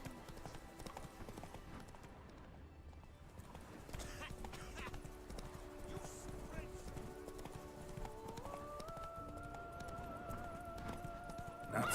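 Hooves of Roach, a horse in The Witcher 3, clip-clop steadily at a gallop throughout, with occasional snorts, under game music and someone talking.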